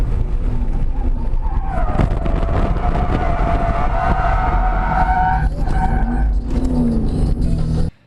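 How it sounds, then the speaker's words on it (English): A C5 Corvette Z06 engine roars continuously at high revs on a race track while tires briefly squeal and chirp as the car snaps sideways, the noise loud and close throughout. "You hear the tires chirp and the car just snaps sideways."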